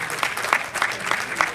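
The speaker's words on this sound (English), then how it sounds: "let's give a round of applause to Lakeisha Moore" An audience at a foundation event gives a short burst of applause for a speaker, continuous close clapping with a few louder accents, no other sounds standing out.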